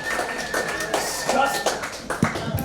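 Comedy club audience clapping for a comedian being introduced, a dense, steady patter of many hands close around, with scattered taps and a whistle-like tone running underneath.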